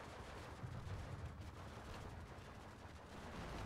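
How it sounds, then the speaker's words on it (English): Gunfire and battle noise from the T-34 tank in Steel Division, a dense, loud, steady wash of shots and blasts with no clear pauses and no talk. "But the other T-34 is going to return fire."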